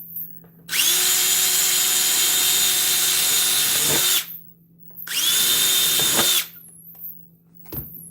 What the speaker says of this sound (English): I'm not the greatest with a drill.